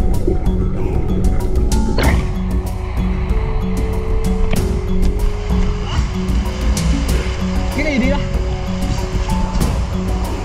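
A fast, strong river current rushes steadily and close by in a stream where people are fishing, a continuous dense wash with occasional splashes and knocks.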